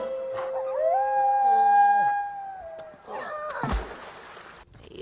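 A wolf in The Rugrats Movie lets out a long, rising then sustained howl that dominates the first three seconds, followed by a burst of thumping action noise.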